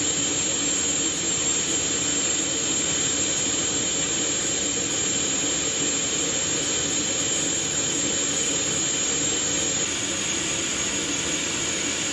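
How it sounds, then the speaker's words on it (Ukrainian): A Russian jet airliner taking off from Ankara, its engines producing a loud, steady roar that stays constant and unbroken from start to finish. "російський літак із шпигунами та вбивцями на борту щойно злетів з Анкари"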